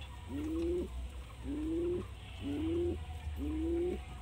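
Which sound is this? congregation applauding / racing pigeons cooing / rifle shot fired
racing pigeons cooing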